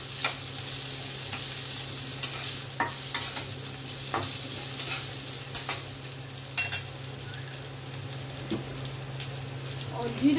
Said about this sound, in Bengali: আলুগুলোকে ভাজতে ভাজতে আমি একটা মশলা তৈরি করে নিচ্ছি।